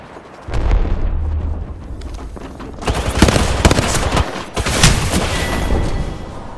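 A frag grenade blast in the shooter Apex Legends sets off a loud, sustained barrage of booms and crackling gunfire, with several heavy bursts rolling one after another across the whole stretch.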